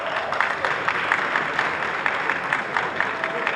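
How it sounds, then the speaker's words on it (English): Audience applause for a speech by members of a state House of Assembly, with dense, steady clapping filling the room throughout, moderately loud and continuous with no talk over it. "All the members who introduced to me are clapping, members of the House of Assembly"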